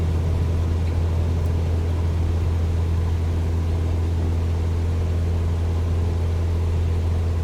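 A Cessna in Microsoft Flight Simulator 2024 climbs out after the flaps are retracted, its engine a loud, steady droning hum that holds unchanged throughout with no talking.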